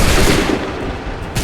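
Musket gunfire from Assassin's Creed III erupts as a loud, sustained volley of overlapping shots and booms, close and dense with no pause.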